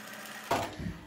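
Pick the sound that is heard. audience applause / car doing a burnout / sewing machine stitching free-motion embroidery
sewing machine stitching free-motion embroidery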